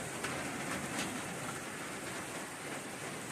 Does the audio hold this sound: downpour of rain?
yes